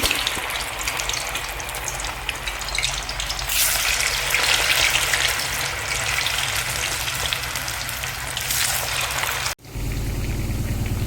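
Fenugreek leaf vadas frying in hot oil over low heat, a dense continuous bubbling sizzle heard up close, briefly cut near the end before resuming.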